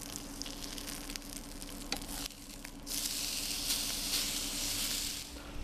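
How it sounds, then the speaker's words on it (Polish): Duck breast sizzles steadily in a hot frying pan, a continuous crackling hiss at low, close level. The frying grows brighter and louder partway through, with a brief dip just before it. "Nasza kaczuszka już się usmażyła"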